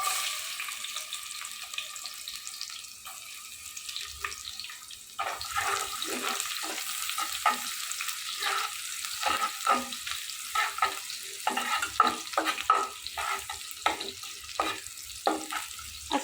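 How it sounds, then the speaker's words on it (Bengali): Bay leaf, cardamom, cinnamon and onion fry in oil in a pan, a soft steady sizzle with stirring scrapes and some watery clatter, moderately close. "এলাচ আর দারুচিনি এখানে আমি দিয়ে দিচ্ছি পেঁয়াজ"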